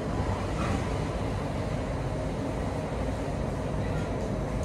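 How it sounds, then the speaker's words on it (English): A steady, loud rumbling roar of an approaching airport people mover train fills the space, constant and droning throughout. "Train arriving. Please stand clear of the doors."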